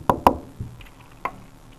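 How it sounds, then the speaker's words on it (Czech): Knuckles rap on wood with two quick sharp knocks, then a softer one and a later single tap, close and dry with no talk. "Tak to zaklepu."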